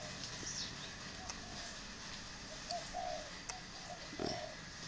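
Turtle doves on a breeding farm give a few soft, low coos, spaced irregularly over faint background noise and distant bird sounds.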